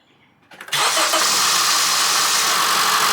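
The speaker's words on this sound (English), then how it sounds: "gonna go start this car up" A car engine cranks briefly and catches, then settles into a loud, steady running roar close to the microphone, with no talking.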